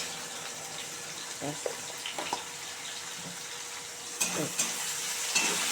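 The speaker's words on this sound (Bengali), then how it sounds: "এবারে এটাকে ভালো করে ভাজা করে নিই" Steady sizzling of drumstick (sajna) leaves frying in a pan with turmeric, with a few scraping stirs and clinks of a utensil against the pan.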